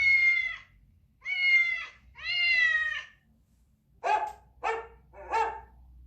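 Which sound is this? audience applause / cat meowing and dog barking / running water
cat meowing and dog barking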